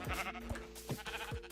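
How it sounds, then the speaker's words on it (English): Sheep bleating in the video game Minecraft, several short wavering bleats in quick succession over a steady background of game music and ambience, fairly quiet overall. "Is this 2 sheep or just 1?"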